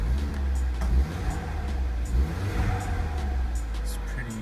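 A cold Audi TT engine idling at high RPM after a crankshaft sensor replacement, a steady, fairly loud drone with a couple of brief swells.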